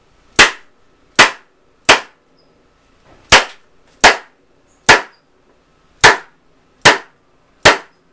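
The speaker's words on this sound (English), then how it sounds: "Now I'm going to staple the entire short end down." A staple gun drives staples through a canvas edge into a wooden stretcher frame, ten sharp, close snaps in a steady, slightly uneven rhythm with nothing else heard.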